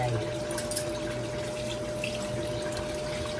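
Water runs steadily over vegetables being soaked in a container, a continuous close splashing wash with no pauses.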